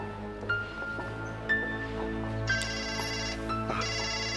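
A mobile phone ringtone goes off in a Buddhist hall, its electronic melody repeating in short bursts about once a second at a moderate, steady level, with no voices.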